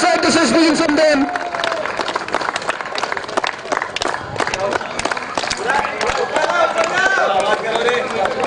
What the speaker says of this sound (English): Can we get some claps going for their outstanding display?